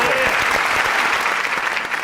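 Dense audience clapping fills a comedy show studio, loud and close throughout with no pauses, while a voice talks faintly beneath it.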